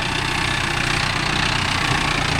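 A Mahindra tractor engine idles steadily at close range, a continuous low, even throb with a slight knock, no clear change in pace across the short stretch.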